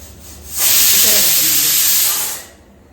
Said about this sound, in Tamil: குக்கர் விசில் வரப்போகுது